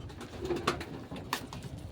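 Pet pigeons kept by a fancier coo in short, low phrases nearby, broken by a couple of sharp clicks and light rustling.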